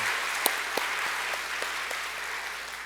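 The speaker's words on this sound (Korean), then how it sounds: "우리 36개 박수로 한번 격려하십시다." Congregation clapping during a Sunday afternoon church service, a soft, even wash of hands with a few sharper claps standing out, heard faint and at some distance in the sanctuary.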